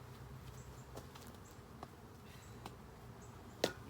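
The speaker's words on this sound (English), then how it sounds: "Bees are all over me." Bees swarm around a hive during a honey harvest, giving a faint, steady insect buzz with a few soft taps and clicks, close by and with no voices.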